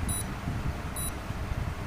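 A G-Shock digital wristwatch alarm gives two short, very high electronic beeps about a second apart, faint over steady outdoor background noise.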